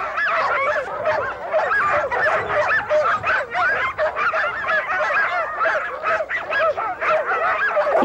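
A pack of sled dogs barks and yips excitedly in the cold before pulling a sled, a dense, nonstop chorus of high overlapping calls close by, with no talking.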